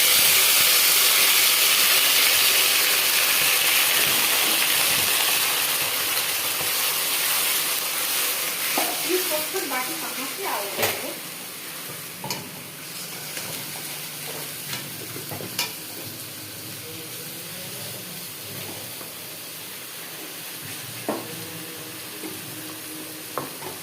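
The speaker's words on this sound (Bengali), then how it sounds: "জিরে ফোড়ন, তেজপাতা, এবার দেব পেঁয়াজ বাটা।" Onion paste hits hot oil seasoned with cumin seeds and bay leaf for a chicken curry. A loud hissing sizzle fades into a quieter steady fry, with intermittent spatula stirs and clinks against the pan.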